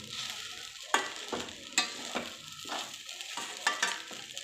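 Sabudana khichdi with salt is stirred in a pan: a soft sizzle runs beneath sharp, repeated scrapes and taps of a spoon against the metal, close up and without speech.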